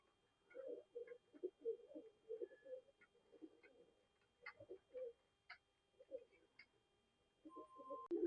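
Soft, low pigeon cooing repeats in short rolling phrases against a quiet background, with a few faint ticks and clicks.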